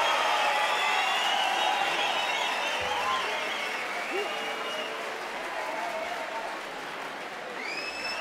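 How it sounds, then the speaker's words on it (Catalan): A concert crowd at Razzmatazz claps in loud, dense, sustained applause, slowly easing off, with scattered whoops and cheers rising above it. "Moltes gràcies pels vostres aplaudiments"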